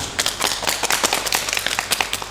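Group of players in a Squid Game style party game applauding, brisk overlapping claps from several people close by, dense and lively for the whole stretch.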